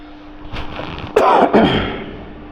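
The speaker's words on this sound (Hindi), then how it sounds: "अगर खांसी आ रही तो थोड़ा सा माफ़ी चाहेंगे" A man coughs and clears his throat indoors, one sharp burst followed by a second shorter hack, with a faint steady hum underneath.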